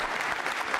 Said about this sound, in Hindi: जोरदार तालियां बजाइए, जोरदार तालियां बजाइए संगीता जी के लिए।